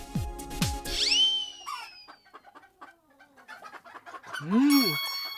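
Chicken clucking in a children's cartoon, several sharp clucks at the start followed by scattered bird calls and a rising-falling squawk near the end, with other sound effects between them.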